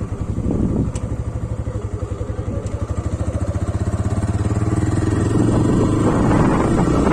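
A TVS Raider 125 motorcycle engine runs close by with a rapid, throbbing idle, then the revs climb and hold steadier and louder toward the end.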